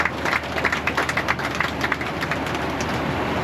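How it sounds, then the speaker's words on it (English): An audience claps together at an honor flight event, a dense, sustained patter of many hands that swells and holds steady at moderate distance. "if we could have a round of applause for those two"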